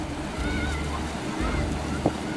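Sea waves on the cold Belgian coast wash and rumble in a continuous roar, with gusty wind buffeting the microphone and voices talking faintly beneath.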